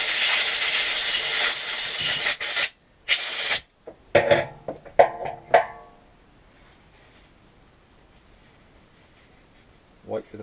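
Compressed air blasts out through a spray gun's fluid tip in loud, broadband hissing bursts, with several short puffs following before the sound fades to quiet.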